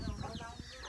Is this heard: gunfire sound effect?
no